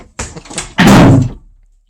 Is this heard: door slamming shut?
yes